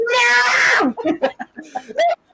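A house cat lets out one long, loud, strained yowl, then follows it with a string of shorter broken cries and chirps close by.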